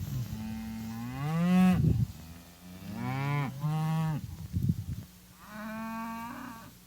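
Cattle moo repeatedly, steers and first-year heifers being moved between paddocks, with several long drawn-out calls at close range, one after another, and no talk.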